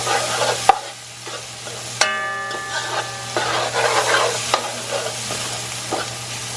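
Masala fries in oil for Guyanese duck curry, with a low steady sizzle under sharp scrapes and clacks of a spoon stirring the pot, close and uneven in rhythm, with no voices.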